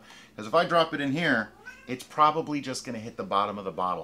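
A pet cat meows repeatedly close by, its calls overlapping with a person talking over them.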